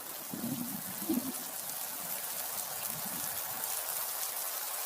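Rain in an animated story, a soft steady patter of drops falling on surfaces throughout, fairly quiet and even, with a few slightly louder thuds near the start.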